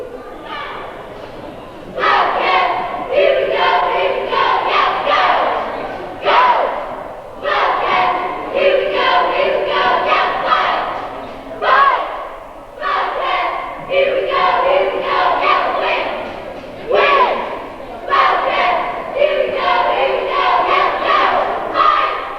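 A varsity cheerleading squad from Northern Adirondack performs on a gym floor during a timeout at a boys' high school basketball game, with rhythmic shouted chants from the squad and crowd, steady and loud with brief pauses between chant phrases.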